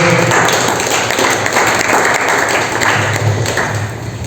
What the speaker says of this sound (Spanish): Un aplauso al Señor, mis amados.